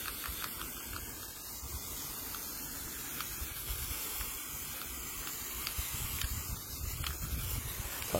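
White lithium grease sprayed from an aerosol can onto a surface as a second coat, giving a steady, continuous hiss that runs unbroken at close range with no talking.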